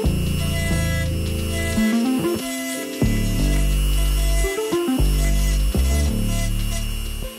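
A small rotary tool whines as it carves grooves into the wooden tail of a handmade swimbait lure, the motor pitch dipping and rising as the bit bites in and eases off, loud and close.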